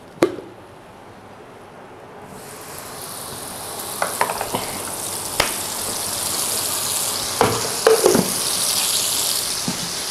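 A loud, steady sizzle of yellow spice paste frying in hot oil in a wok, with a few scrapes and clinks of stirring over the constant hiss.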